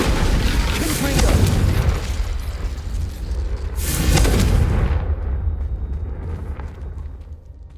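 Confringo fire spells burst in Hogwarts Legacy, two heavy booming blasts about three seconds apart, each followed by a rumbling roar over a steady low background.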